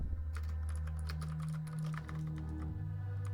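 Computer keyboard typing, a steady run of quick, close key clicks over a low constant hum, with no voices.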